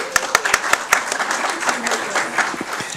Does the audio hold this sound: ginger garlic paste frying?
no